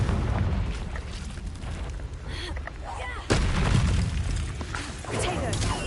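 Confringo blasting spell in Hogwarts Legacy, set off in a game fight: dense booming bursts with crackling debris, and a sharp loud explosion in the middle, under a steady rumble of combat noise.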